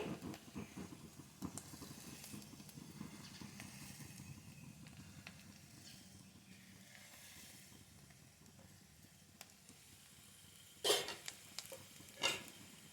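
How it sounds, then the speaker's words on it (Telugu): Puffed rice being lightly fried and stirred in a pan for borugula payasam: a faint, steady sizzle with soft scraping strokes, then a couple of sharper clinks of utensil against the pan near the end. "పెట్టుకుని లైట్గా వేయించుకోవాలండి"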